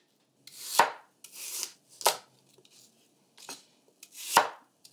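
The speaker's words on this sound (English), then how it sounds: "We could just rough chop these." A knife rough-chopping squash on a cutting board, five or six separate crisp cuts with short pauses between them, close and clear with no talking.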